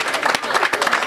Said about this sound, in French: Applaudissez-les bien.